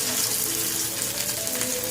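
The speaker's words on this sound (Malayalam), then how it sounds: "ഞാൻ ചൂടായ എണ്ണയിലേക്ക് ഓരോന്നിട്ട് കൊടുക്കുകയാണ്." Cutlets sizzle and bubble in hot oil, a dense, steady frying hiss filling the short stretch with no voices.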